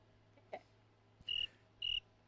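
Two short, bright insect-like chirps, similar to crickets, stand out alone against a quiet background, with a faint tap just before them.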